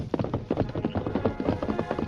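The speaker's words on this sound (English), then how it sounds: "Tonto's paint horse Scout seemed to know exactly where he was going." Horse hooves galloping off at night in a Lone Ranger radio drama, a steady rapid clip-clop rhythm continuing throughout, fairly close and moderately loud with no talk.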